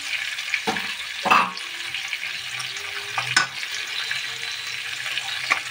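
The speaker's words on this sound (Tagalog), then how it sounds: "lutuin lang natin yung garlic" Garlic frying in a pan while pechay is being cooked, a steady soft sizzle with a few sharp scraping clicks from stirring, close and moderately loud, no talk.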